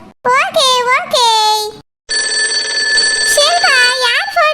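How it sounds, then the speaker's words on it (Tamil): A phone rings with a steady electronic ringtone for a couple of seconds, close and loud, under and after a child's rising, sing-song voice. "என் புருஷன் தான் ஃபோன் அடிக்காரு"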